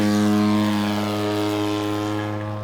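A Top-Flite giant scale P47 Razorback RC plane flies by, its engine giving a steady droning tone that fades slightly as it moves away.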